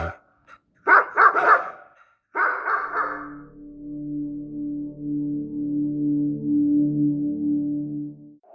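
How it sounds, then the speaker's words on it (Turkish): Soldiers' dogs bark in a few sharp bursts, loud and close, in a tense radio drama scene, then give way to a low sustained musical drone. "Askerlerin köpekleri havlarken atmosfer daha da ürkütücü bir hal alıyordu."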